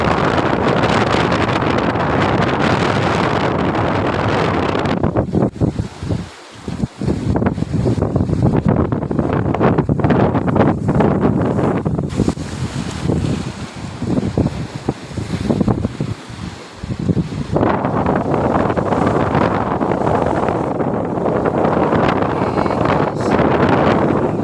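Strong wind buffets a boat at sea in rough weather off the Aru Islands, a loud steady roar of gusts and wind noise on the microphone with waves and water rushing around the hull, continuous throughout.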